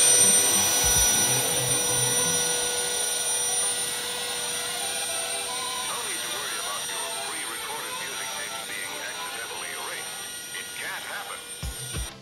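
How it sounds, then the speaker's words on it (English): Worx Nitro 40v Leafjet cordless leaf blower running on its volume nozzle setting, a steady loud rushing whine with a high tonal hum that fades slightly as a voice talks over it near the end. "how the two settings on the nozzle here really change the performance of this leaf blower"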